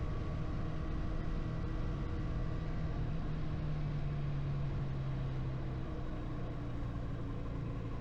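A motorcycle engine in sixth gear pulls out of a third-gear corner, a steady low drone with a faintly rising hum under constant wind rush, heard alone for the whole stretch.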